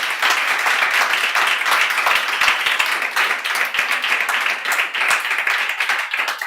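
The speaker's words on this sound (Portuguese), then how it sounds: "Dá uma salva de palmas para Jesus." A church congregation claps in a brisk, steady burst of applause, with many hands clapping close together throughout, a few sharper individual claps standing out.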